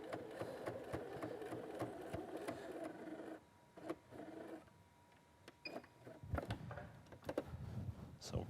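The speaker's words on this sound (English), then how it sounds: "Now we just stitch down the next side." A domestic sewing machine stitches binding down along the edge of a quilt in a steady mechanical run, pausing midway with a few lighter clicks before the motor hums again, fairly close and quiet.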